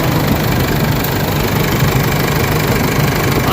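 A 4JJ3 diesel engine of an Isuzu MU-X idles steadily with the engine bay open, a dense, constant low rumble with knocking texture, close and loud throughout with no talk.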